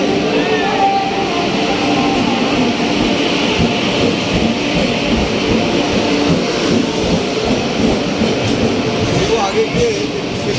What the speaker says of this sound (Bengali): ট্রেন এসে গেছে আমাদের